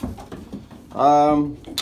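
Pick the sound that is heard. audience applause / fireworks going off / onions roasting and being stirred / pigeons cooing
pigeons cooing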